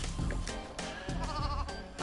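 A sheep bleats several times in LittleBigPlanet 3, with wavering tonal cries over a busy game backdrop of music and effects, fairly loud and close throughout.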